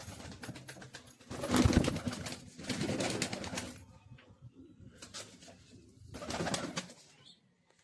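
Pet pigeons coo in soft throaty bursts close by, three rounds of cooing separated by quieter gaps.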